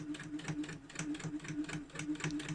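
A sewing machine stitches fabric for a drawstring bag, giving a quick, regular mechanical chatter of needle strokes in an even rhythm, close and fairly quiet, with no voices.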